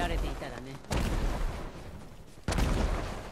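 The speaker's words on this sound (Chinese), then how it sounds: "咩放晒烟花嗰边？" Fireworks explode in the Ghost of Tsushima video game, two loud booming bursts about a second and a half apart, each fading into a rumbling tail, with voices talking over them.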